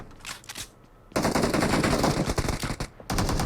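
Automatic gunfire from PUBG Mobile rattles in loud, rapid bursts: a short burst first, then a long sustained stream of shots after a pause, and another burst at the end.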